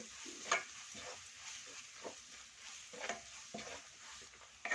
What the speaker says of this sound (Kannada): ಶುಂಠಿ ಬೆಳ್ಳಿ ಪೇಸ್ಟನ್ನು ಇದರಲ್ಲೇ ಸ್ವಲ್ಪ ಸ್ಮೆಲ್ಗೆ ಹೋಗಲಿ ಬಾಡಿಸ್ಕೊಳ್ಳಿ